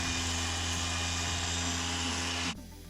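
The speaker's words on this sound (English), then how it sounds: "we're gonna remove these sanding marks from the headlights with my compound and compounding pad using my machine polisher" A machine polisher with a compounding pad works over a car headlight with a loud, steady whirring drone that cuts off abruptly near the end, leaving a faint hum.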